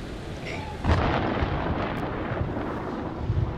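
Thunder from a storm in the video game Man of Medan, a sudden rumbling crack that swells and then rolls on as a long, steady low roar with no one speaking.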